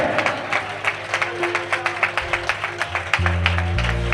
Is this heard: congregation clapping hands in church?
yes